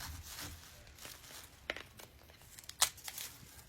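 A cut piece of a Dollar Tree foam pumpkin is pried loose, giving scattered crackling tears and a sharp snapping crunch near the end, close and fairly quiet.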